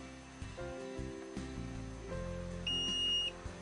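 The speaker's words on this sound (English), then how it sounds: "When I hear that little beep, I have the weight in my bag." An electronic luggage weigh scale gives a short, bright, steady beep at the end, after a few seconds of low handling and rustling from lifting a bag on its hook.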